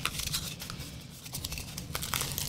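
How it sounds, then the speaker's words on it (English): A small plastic baggie of powdered paste-paper mix crinkles and rustles as it is handled and opened, a steady close crumpling texture with a few sharper crackles. "It's a plastic bag that has the powder in it."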